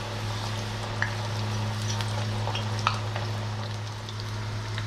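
Kakiage batter with bluegill sizzles steadily in hot oil, a soft continuous crackle with occasional small pops, close by and fairly quiet.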